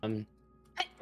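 A single short sneeze bursts out close by during a tabletop game session, with voices talking just before it.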